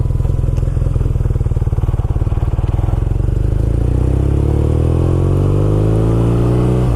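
A BMW R nineT Scrambler motorcycle riding off-road, its engine loud and close with a steady low throb that climbs in pitch as the rider accelerates toward the end, with some faint clatter.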